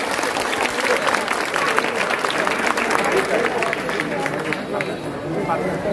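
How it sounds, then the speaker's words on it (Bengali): Students at a school exhibition and auction clapping together in a room, a lively continuous patter of many hands with a faint murmur of voices underneath. "একটা হাততালি দিয়ে বোঝাতো কত খুশি।"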